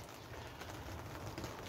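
Rain falls steadily on an outdoor allotment plot, a dense, even patter of drops with a constant hiss and no talking.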